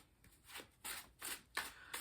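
Oracle cards being shuffled by hand during a tarot reading, giving a few soft riffling bursts spaced roughly half a second apart, quiet and close with no talk.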